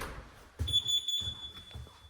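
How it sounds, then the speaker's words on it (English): A home security alarm system keypad in a newly built East Cobb, Georgia luxury house gives a steady electronic beeping tone for about half a second, close and clear over quiet room noise. "Set up for your alarm system."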